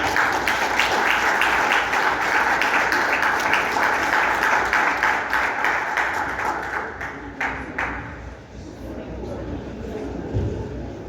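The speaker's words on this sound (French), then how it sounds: "Je vous demande de l'applaudir." Audience applauding the Festrel president at a 40th-anniversary gathering of Haiti's electricity workers' unions: dense, steady clapping from a crowd that thins and fades out over about eight seconds, leaving a quiet room with a few scattered claps.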